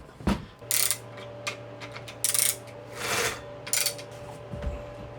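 Chain tension on a 120cc budget chainsaw is loosened by hand, giving short bursts of metallic ratcheting and mechanism clicks separated by brief pauses, close and fairly quiet.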